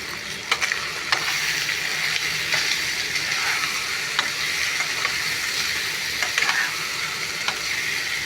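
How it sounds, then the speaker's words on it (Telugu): Prawns fry in ghee for a dum biryani, giving a loud, continuous close-up sizzle with occasional pops and scraping clicks and no talking. "నెయ్యి అయితే వేసుకుంటాను బాగా వేయించుకోవాలి"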